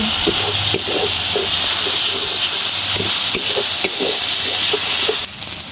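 Cumin powder and coriander sautéing in a pan for a fish omelette, a loud, steady hiss and sizzle close by with faint periodic scraping taps, the sound dropping slightly near the end.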